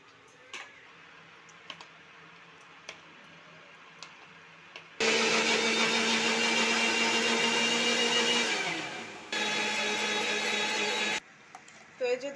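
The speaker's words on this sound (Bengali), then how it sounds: "এবারে এই যে সিদ্ধ করে রাখা গাজরটা মিক্সির জারে" A mixer grinder blending boiled carrot in its jar, a loud close whirring roar that starts abruptly, runs about four seconds, winds down briefly, then runs again for a few seconds before stopping, with sparse clicks around it.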